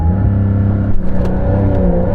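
Porsche 911 GT3 launching hard with stability control off, its engine roaring loud and close as it pulls steadily through a sustained, rising acceleration with no talk over it.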